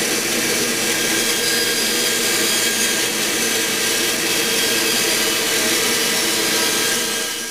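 A power tool spins a particle board disc on a woodworking setup while veneering an occasional table, giving a loud, steady whirring roar that holds evenly throughout with no pauses.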